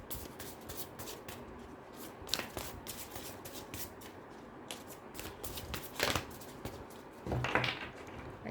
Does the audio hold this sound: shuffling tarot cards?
yes